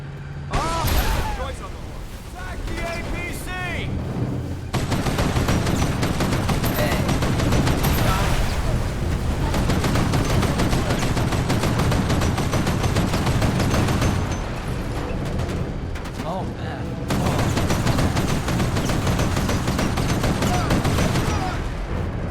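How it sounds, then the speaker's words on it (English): Gunfire from the video game Mercenaries 2 rattles in long, dense bursts of automatic shooting and booming blasts, loud and near, running almost without pause across the whole stretch, with voices mixed in underneath. "That's Joyce himself shooting out."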